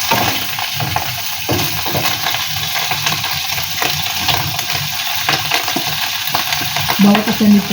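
Mushrooms sauté in a pan with a steady loud sizzle and frequent stirring scrapes, continuous and close throughout.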